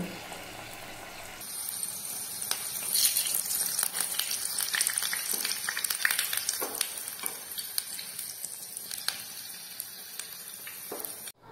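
Spinach leaves coated in gram flour batter fry slowly over low heat in oil, giving a steady crackling sizzle that starts abruptly and carries on throughout.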